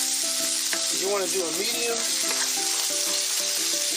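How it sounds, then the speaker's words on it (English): Garlic and onion sauteing in a hot pan for a sauce, a steady close sizzle and frying hiss heard under a person's talking. "I got my pan a little hot, and we're going to saute our garlic"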